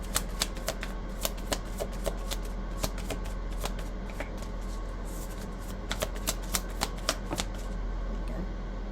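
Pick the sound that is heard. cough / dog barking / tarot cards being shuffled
tarot cards being shuffled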